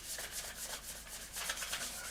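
Sandpaper rubs on a plastic part from a 1/48 scale Italeri Seahawk model kit, a close, quiet scratchy rasp in short repeated back-and-forth strokes.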